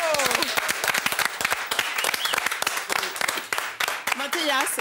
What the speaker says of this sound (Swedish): Vi tar en applåd.